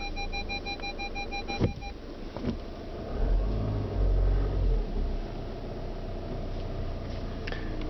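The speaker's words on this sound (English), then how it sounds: "Sensors also beep." Rear parking sensors of a 2012 Skoda Rapid Elegance give a few quick evenly spaced beeps while reversing, then stop, leaving a low engine rumble with a couple of soft clicks and a swell of road noise.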